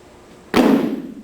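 A single sharp thud of feet landing on a weightlifting platform during a split jerk, a sudden loud impact with a short ringing decay, otherwise quiet.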